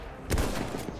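Gunfire in a Battlefield video game: a sudden loud, dense burst of shots erupts after a quiet moment, followed by a sustained rattle of firing.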